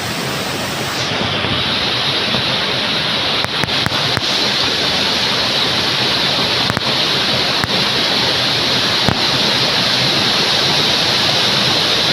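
Water at Minumuluru Waterfalls rushes loudly and continuously over rocks, a close, broad roar with a few faint knocks.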